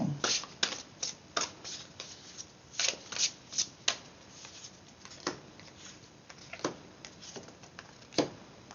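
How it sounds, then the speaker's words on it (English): A thick deck of tarot cards is shuffled by hand, the cards riffling and snapping in a string of quick, uneven bursts, close and crisp with no talk over them. "It's a very chunky shuffle."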